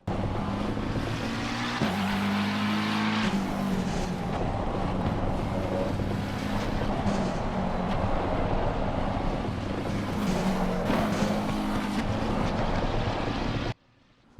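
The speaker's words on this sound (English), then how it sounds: "That, people, is the sound of the wind." Steady roaring wind and road rush fill a racing car in the Assetto Corsa Competizione game while cornering, a constant dense noise with low engine drone shifting in pitch, running without talk.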